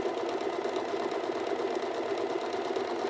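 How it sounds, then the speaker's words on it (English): Alfa Practik 9 sewing machine running a triple stitch, two stitches forward and one back, a steady close mechanical whirr with a fast, even motor rhythm throughout. "you can see the machine's going 2 stitches forward, 1 stitch back, 2 stitches forward"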